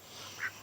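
Ducks in an outdoor pen give two short, faint quacks in quick succession over a steady background hiss, with no talk.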